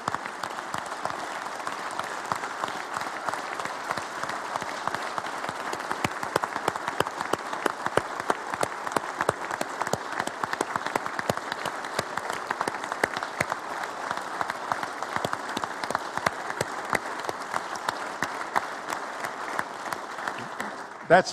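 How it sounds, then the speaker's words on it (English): Sustained audience applause fills a hall during a State of the State address, steady dense clapping from a large crowd for about twenty seconds with no talk over it. "I don't want you to get more applause than I got, Ben, Tom."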